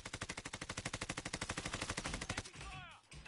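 Warzone automatic weapon fire rattles in a rapid, even burst of about twenty-five close, loud shots, then stops abruptly, followed by a brief trailing crack and faint voice.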